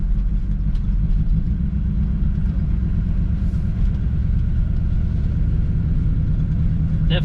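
A 1963 Impala SS V8 barn find rumbles steadily while driving slowly, running rough and not firing on all eight cylinders, a constant close drone with a brief light clatter near the end.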